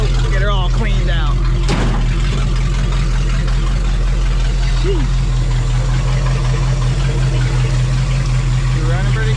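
An International Scout engine with a dirty carburetor runs at a steady idle. A loud, constant low rumble and drone continue throughout, and a brief voice cuts in near the start.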